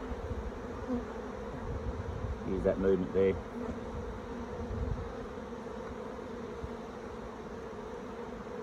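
Steady close buzzing of many honeybees around an open, crowded hive in December in the Orara Valley, with a brief burst of louder activity and a few quiet spoken words partway through as hive lids go on.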